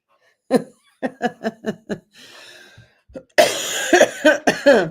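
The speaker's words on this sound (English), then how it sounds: "if I start laughing, I start coughing." A string of sharp coughs, about five in quick succession, then a hoarse raspy breath and a burst of wheezy, strained laughter-like coughing.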